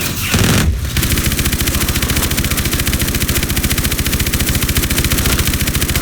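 A main gun firing in the video game Call of Duty: Advanced Warfare, a loud, unbroken rapid-fire stream of shots that holds steady for several seconds after a brief opening burst.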